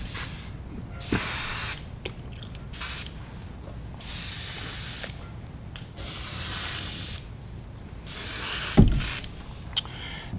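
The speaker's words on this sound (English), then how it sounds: "give the airbrush a quick rinse again." An airbrush being rinsed sprays in repeated bursts of hiss, a rinse before pearlized copper paint goes in, with short gaps and small clicks between the sprays.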